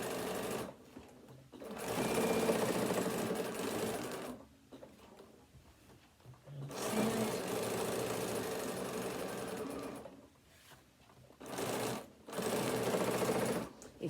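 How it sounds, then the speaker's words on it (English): A sewing machine stitching around the edge of a fabric card wallet, running in several bursts of rapid mechanical whirring separated by short quiet pauses, close and fairly loud. "we've just stitched all the way around the edge"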